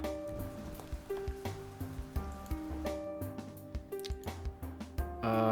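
Rain falls in the marble platformer game AtmaSphere, a soft, steady patter and pitter of drops under light plinking game tones and faint chimes, quiet throughout.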